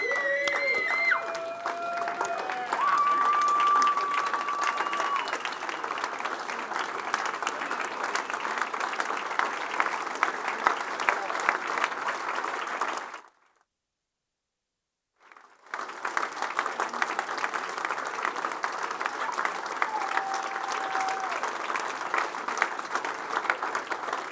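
A gala crowd on its feet gives sustained applause for three founders at an anniversary celebration, dense clapping and some cheering, broken by a short near-silent gap before the clapping resumes just as strongly.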